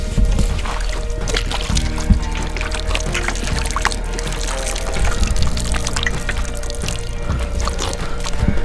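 Water is poured out for someone to drink, a close, continuous splashing and trickling stream that runs steadily with small bursts and gurgles, no one speaking over it.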